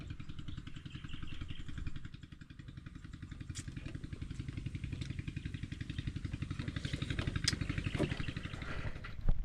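A small engine, apparently a water pump, runs steadily close by with a fast, even clattering pulse, lifting slightly in level toward the end.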